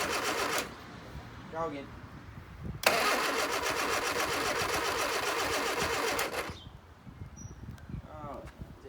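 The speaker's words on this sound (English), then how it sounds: "choke's pulled out, ignition's turned on, hit that starter" A 1973 Leyland Moke engine cranks on its starter with the choke pulled out, a rapid whirring churn lasting several seconds between short pauses, with people talking nearby before and after.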